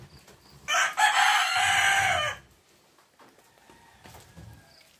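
A rooster crows once, loud and close, a long drawn-out call of about a second and a half, followed by quieter clucks and faint farmyard sounds.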